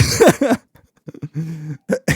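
A burst of harsh, close coughing followed by a few rough, throaty hacks after a brief pause.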